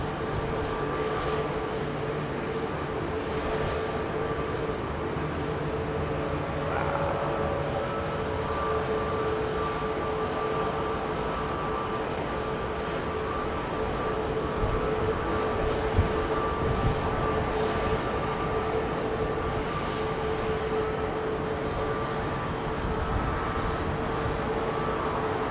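An aging Boeing 767 jet roars through a smoky takeoff at London Heathrow Airport, a loud, sustained engine rumble with steady tonal whine that holds throughout without voices.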